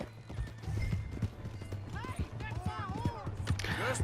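Horse hooves clip-clop on the ground in the Western video game Red Dead Redemption 2, with a horse neighing and whinnying near the end, all under the game's background sound.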